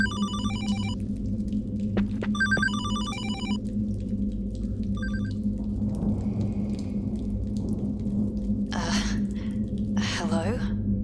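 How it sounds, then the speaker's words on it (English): An old-style telephone bell rings in bursts inside an apartment in the horror game Hollowbody, with gaps between rings over a low steady hum, followed by soft breathing and rustling. "There will be a phone in this room that will ring."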